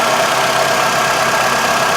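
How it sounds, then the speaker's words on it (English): A vehicle engine idles with the air conditioning switched on, producing a loud, steady, unbroken mechanical drone with a continuous fan-like hiss, close by and with no talking. "all I've done is turn on the vehicle and turn on the AC"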